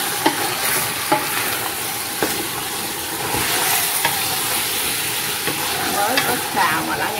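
Loud continuous sizzling of duck meat being stir-fried in a pot, punctuated by occasional scrapes and clinks of a spatula.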